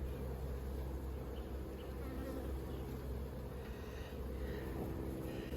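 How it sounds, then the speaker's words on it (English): Drone and worker honey bees buzzing at an open hive during an inspection, a dense continuous hum that stays close and steady throughout, with no talking. "it's a mix of drone and worker bees"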